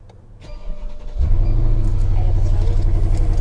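A salvage Rolls-Royce engine cranks and catches after a quiet second, settling into a steady, loud, smooth idle rumble close by.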